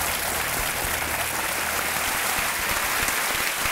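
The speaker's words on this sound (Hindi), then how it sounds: "तालियों के साथ इनका अभिनंदन" A TV quiz-show studio audience breaks into sustained applause, a dense, even wash of clapping that stays steady from start to finish at moderate volume.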